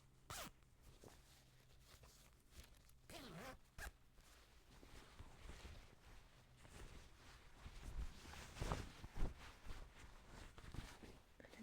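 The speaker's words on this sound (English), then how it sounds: "And it has a little zipper here." A zipper on a dress is pulled open and closed in several short, quiet zips at close range, with soft fabric rustling between them.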